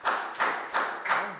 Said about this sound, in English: Big round of applause for Pak Bung, guys.